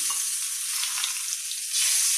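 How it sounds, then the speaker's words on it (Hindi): Hot tempering (tadka) is poured into chana dal and sizzles loudly, a bright, continuous frying hiss that swells toward the end, with no talking. "ये देखिए ये कितना अच्छा छौंकना तैयार हो गया, और इसको मैं इसमें धीरे डालूंगी।"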